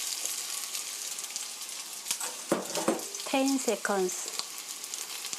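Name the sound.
kneaded beef mixture frying in oil in a pan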